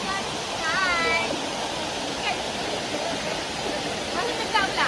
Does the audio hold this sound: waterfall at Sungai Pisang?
yes